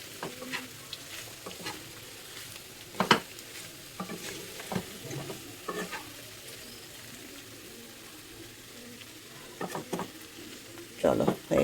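A tomato sauce mixture with sugar is stirred and fried in a pan: a low, steady sizzle broken by irregular scraping and clinking of the utensil, close up and without talk.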